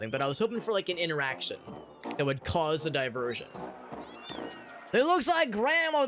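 Drawn-out, wavering cat meows from the Amanda the Adventurer 2 video game, mixed with a person talking over them. A louder pair of rising and falling meows comes near the end.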